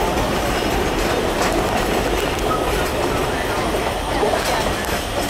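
An Alishan Forest Railway train pulls out of Shenmu station in Taiwan after rain, its wheels rumbling and clattering loudly and continuously nearby, with people talking underneath.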